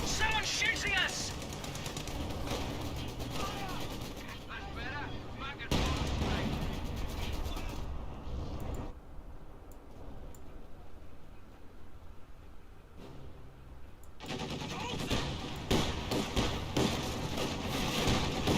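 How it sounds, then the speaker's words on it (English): Gunfire crackles in Company of Heroes 2 battle, with bursts of machine gun and rifle fire and thudding blasts that come in loud stretches separated by a quieter lull, with talk over parts of it. "Someone's shooting us!"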